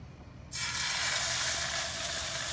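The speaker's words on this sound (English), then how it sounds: "I have a tablespoon of butter melting in the frying pan." A steady, bright sizzle bursts in after half a second of quiet and holds evenly, like butter melting in a hot frying pan close by.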